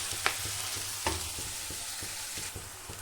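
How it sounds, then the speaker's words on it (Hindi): Onions fry in a pan on a home stove, a steady bright sizzle with occasional louder clinks and scrapes as a spoon stirs them. "जब तक प्याज सिकते हैं"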